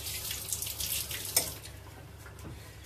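Tap water runs into a kitchen sink for a quick rinse, a soft, faint splashing with a brief clatter near the middle and no talk.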